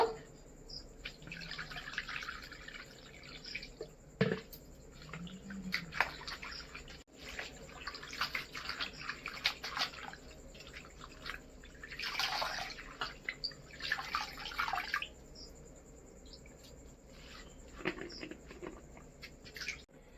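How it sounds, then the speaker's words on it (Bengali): Tap water runs and splashes intermittently as jute greens (pat shak) are rinsed in a home kitchen, with drips, patters and handling clatter at close range and no speech. "আমি পাট শাকটা ভালো করে ধুয়ে নেব।"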